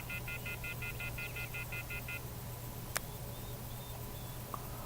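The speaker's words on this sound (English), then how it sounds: "Took out my cell phone and dialed the first number from my contact list." Cell phone number dialed in the Everlasting Summer video game: a quick, evenly spaced run of about ten electronic key tones over a low steady hum, then a single sharp click and faint beeps.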